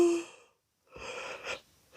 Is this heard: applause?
no